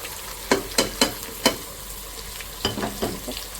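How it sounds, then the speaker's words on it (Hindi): Beef with garlic, ginger and spices frying in a pot, a sizzling base broken by regular stirring scrapes, about four quick strokes, a pause, then three more, close and without speech. "इन मसालों के साथ ही आप इसको 1-2 मिनट भून लें, अच्छा कलर आ जाएगा।"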